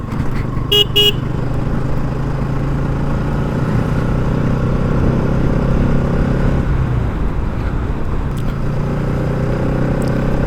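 A motorcycle ridden through traffic on a road in India, with a steady loud engine and road roar throughout, a couple of quick car horn toots early on and another faint honk later.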